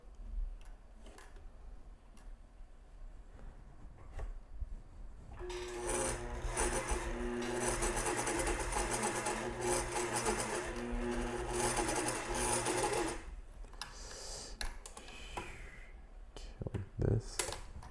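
A sewing machine backstitching fabric runs in a fast, even mechanical chatter for about eight seconds, framed by quieter handling noises and soft clicks before and after.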